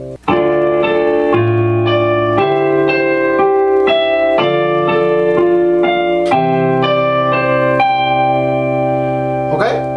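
Slow piano chords played one after another at a steady pace, each ringing clearly before the next, close and moderately loud with no talking.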